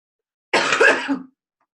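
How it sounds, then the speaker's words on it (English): A single harsh, raspy cough burst lasting under a second, close and fairly loud, with a short throaty tail before silence. "I'm trying to get over this stupid cough"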